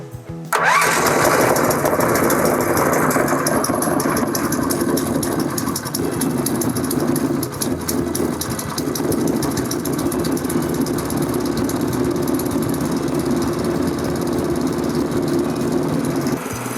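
A 170FE walk-behind tractor engine with an electric starter cranks briefly, catches and then runs at a steady, loud, close idle with no break.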